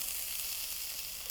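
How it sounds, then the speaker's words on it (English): Onion sizzling in a hot pan as the base for a brown rice paella, a steady close hiss with no talk over it. "There, you can hear that sizzling already."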